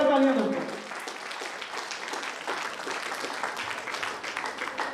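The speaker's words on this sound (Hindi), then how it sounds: "जोरदार तालियां।" Audience applause at a celebration event for a herbal products company in Mughalsarai, a dense steady clapping that fills the room for several seconds after a brief voice at the start.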